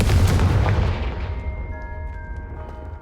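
A booming fire-spell explosion in the Hogwarts Legacy video game, a loud low blast that rolls off and fades over a few seconds, leaving a faint tonal hum behind.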